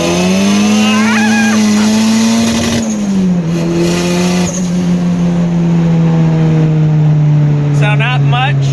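A turbocharged Honda F23 engine in a car on a pull runs at a loud, close, sustained drone. Its pitch climbs, dips briefly near the three-second mark, then holds steady while the turbo whistles faintly above it.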